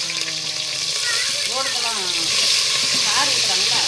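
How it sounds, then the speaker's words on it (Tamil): Onion, curry leaves, ginger and garlic sautéing in hot oil for a goat head curry, a loud continuous sizzle with scraping stirs, while a voice speaks over it. "எண்ணெயிலே போட்டு நல்லா வதக்கிக்கலாம்"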